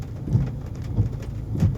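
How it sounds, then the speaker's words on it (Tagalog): Steady, dense rainfall with a constant hiss and low rumbling patter, no voices. "Kanina pang madaling araw lumalakas talaga ulan."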